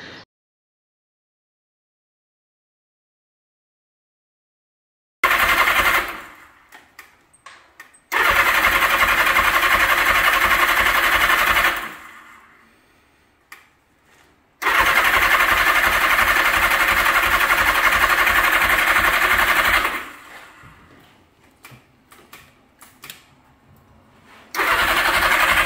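A motorcycle engine, its timing just adjusted, cranks and fires after a silent stretch, then runs in two long loud, close stretches of steady chugging, with a sputtering pause between them and a rough rumble at the end.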